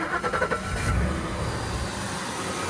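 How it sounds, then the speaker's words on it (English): A car engine is cranked and fires up during a battery analyzer test, with voltage sagging to about 9.8 volts while starting. A few quick cranking pulses lead into a steady, close running idle, with no talk. "we started engine."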